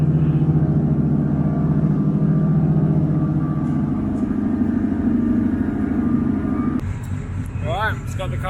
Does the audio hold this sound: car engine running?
yes